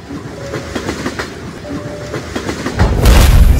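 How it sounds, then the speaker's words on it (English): A train with a tendency to break down rumbles along with rhythmic clickety-clack of wheels, growing louder and heavier toward the end as it rolls closer. "This train always breaks down."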